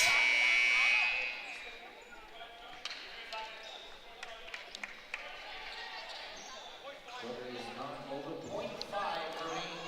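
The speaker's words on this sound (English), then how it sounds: "the buzzer sounds" A buzzer blares loudly at the start of a women's college basketball game in a gym, cutting off after about a second, followed by court noise, squeaking shoes and a commentator talking.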